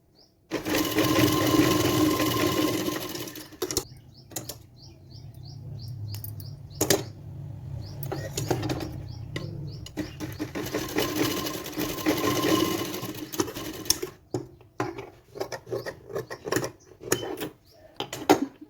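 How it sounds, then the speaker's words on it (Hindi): A sewing machine stitches blouse fabric in bursts of rapid mechanical whirring, starting and stopping several times with short pauses and clicks between runs, close and fairly loud. "हमें पूरे कपड़े में सिलाई लगा लेनी है"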